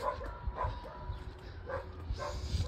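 A dog barks several times at a moderate distance, short yips spaced irregularly over a quiet outdoor background.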